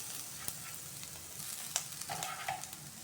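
Grated coconut and cashews dry-roasting in a pan, a faint low sizzle with light scraping stirs and a couple of small clicks, close but quiet, no talking.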